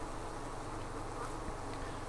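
Honey bees and yellow jacket wasps buzz at a hive in a dense, continuous drone of many insects close by, steady and unbroken, with no talking.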